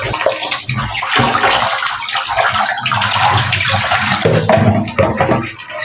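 Water runs loudly into a container of chillies being rinsed, a continuous splashing gush that fills the whole clip with no voices.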